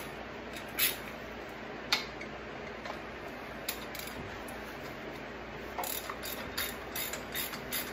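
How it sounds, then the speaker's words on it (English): Half-inch ratchet with a 17 mm socket clicking in quiet, rapid runs while loosening brake caliper bolts on a Super Duty truck, faint and close, with a few sharper metallic knocks. "Now we're gonna use our half inch ratchet and our 17 millimeter socket."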